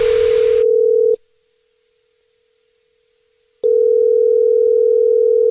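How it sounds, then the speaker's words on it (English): Steady telephone dial tone in the opening of a radio prank call, loud and continuous, broken by a silent gap of about two and a half seconds before the tone returns; a brief burst of noise sits at the very start. "It's another Jubal phone prank."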